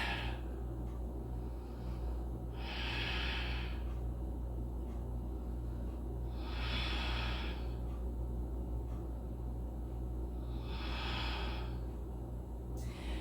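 Slow, steady breaths while holding a yoga bridge pose in a home practice, three soft airy exhalations evenly spaced over a constant low background hum, with no talking.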